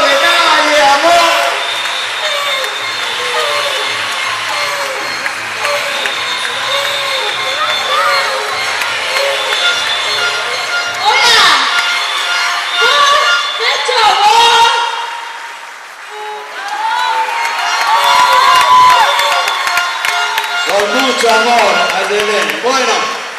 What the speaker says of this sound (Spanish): Acá están todas las pescadoras que te aplauden